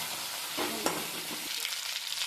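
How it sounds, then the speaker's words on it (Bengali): A fish head fries in hot oil while a spatula breaks it up in the pan, a steady close sizzle with scraping and stirring strokes, no voices. "মাছটাকে আমি এখানে খুন্তি দিয়ে ভেঙে নিব, যাতে মাছটা ভালো করে ভাজা হয়।"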